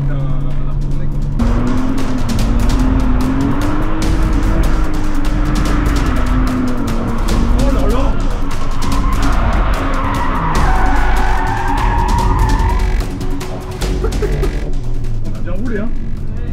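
Car drifting around a circuit on a track day, with tires squealing and skidding almost continuously under a loud, straining engine, while people talk over it.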